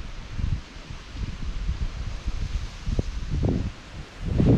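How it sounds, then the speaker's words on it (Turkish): Breeze stirring leaves in a garden beside a stream, a steady soft rustling that swells into several louder gusts toward the end, with no voices. "Esintiye bak."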